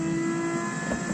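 A race car accelerates hard on a circuit near the Porsche curve, its engine revving in a loud, sustained drone for a moment.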